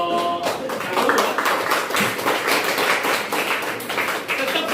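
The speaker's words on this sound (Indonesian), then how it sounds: "Tepuk tangan buat kelompok 1 ya." Students in a classroom clap for a group after its presentation, a dense steady patter of many hands filling the room, with some chatter and voices mixed underneath.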